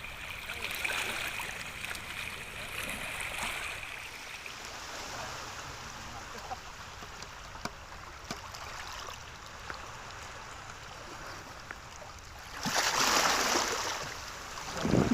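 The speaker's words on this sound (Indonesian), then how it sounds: "kami sedang menikmati ombak dan air laut di tepian pantai Kampung Kenjeran" Sea waves lap at the shore of Kenjeran beach in a fishing village, a continuous wash of water that swells into a louder surge near the end.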